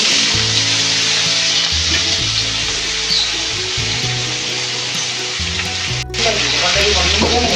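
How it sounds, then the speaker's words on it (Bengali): Potato pieces fry in a pan with a constant, fairly loud hissing sizzle over a low droning hum, broken only by a brief dip before the frying carries on steadily. "এবার আলুগুলো একটু ভেজে নেব"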